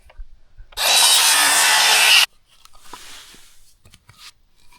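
A circular saw cuts a notch in deck lumber with one loud, steady, high whining cut lasting about a second and a half. Fainter tool noise and handling sounds follow, with no voices.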